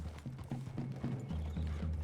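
Horses' hooves in the video game Red Dead Redemption 2, a steady rhythmic clip-clop of several riders walking through a forest clearing, moderately close, with a low ambient rumble underneath.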